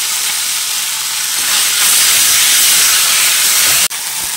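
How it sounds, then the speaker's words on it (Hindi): Rice sizzles and fries loudly in a kadhai with browned onions, a continuous bright hiss that swells slightly midway, with no talking. "अब मैं चावल डाल दूँगी कढ़ाई में"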